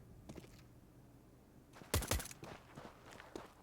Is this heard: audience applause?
no